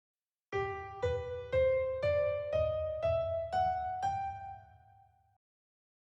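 A rising seven-note scale built from the chords of a song is played as seven evenly spaced, clearly pitched notes, the last ringing out before silence.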